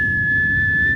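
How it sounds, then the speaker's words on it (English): A single steady whistled tone from a person, clear and close, held for about a second before it stops abruptly. "Oh, whistle. Can you whistle?"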